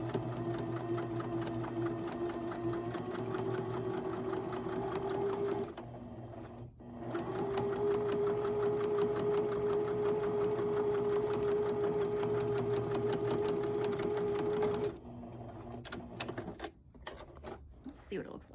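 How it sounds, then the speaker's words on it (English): A sewing machine stitches along the hem of a pair of jeans in steady, loud, continuous runs, stopping briefly partway through and again near the end, with a few soft clicks and handling noises in the pauses. "You want to sew just on the side of it that is the back side of the"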